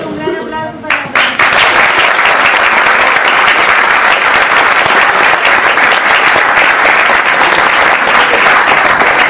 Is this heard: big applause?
yes